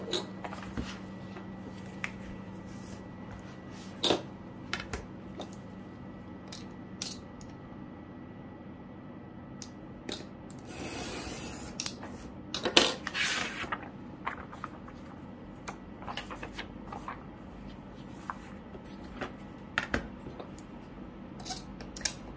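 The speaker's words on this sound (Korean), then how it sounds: "이런 식으로 다 잘라낼게요" A knife slicing apart Hobonichi planner notebook pages, with sparse sharp cutting ticks and scrapes spread out at a quiet level, plus a brief louder rustle of paper midway.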